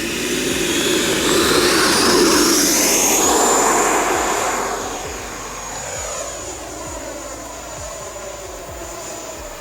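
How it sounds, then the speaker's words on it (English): An FMS Avanti 90mm electric ducted fan model jet on a 6-cell power system flies past, a loud high whine that swells, shifts pitch and then recedes into a steady distant drone. "The plane is not lacking for thrust whatsoever with the 6-cell system."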